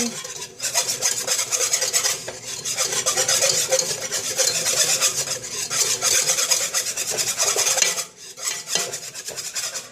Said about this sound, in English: my first envelope of the unflavored gelatin. And I'm going to whisk it in.